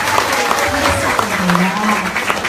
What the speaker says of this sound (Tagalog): 4 milyong palakpak!